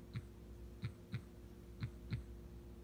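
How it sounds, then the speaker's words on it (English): A toy bear's built-in heartbeat unit plays soft, low thumping beats, five pulses in under three seconds with slightly irregular spacing, faint and muffled over a quiet background hum. "the cute thing about this bear is I got a heartbeat"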